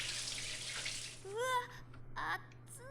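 Hot bath water running from a tap in Corpse Party: Book of Shadows, a steady gushing hiss that fades out, followed by brief talking in short bursts over the quiet.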